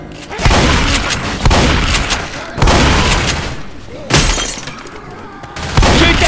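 In Left 4 Dead 2, loud booming gunshots go off in several heavy bursts, mixed with the crash of shattering window glass, while a voice talks over the action.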